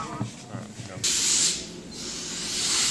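Aerosol brake cleaner blasts onto a hydraulic cylinder tube in a workshop, a sudden loud hissing spray that fades briefly, then a second long hiss follows after some soft handling clatter.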